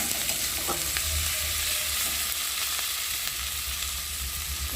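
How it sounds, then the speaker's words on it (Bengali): Spice masala with tomato fries in a pan, giving a continuous soft sizzle up close with occasional stirring scrapes and small spits of oil. "চলো মশলাটা ভালো করে ভেজে নিই।"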